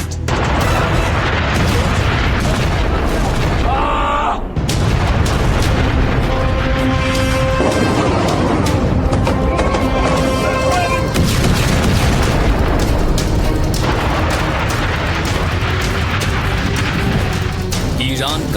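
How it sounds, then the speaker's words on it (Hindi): Loud, dense blasts from cluster bomb strikes in footage released by Iran, a continuous barrage of booms and crackling bursts running throughout with no clear gaps, some tonal layers over the top. "और इसी में से एक है क्लस्टर बम। ईरान ने खुद इसका वीडियो भी जारी किया है।"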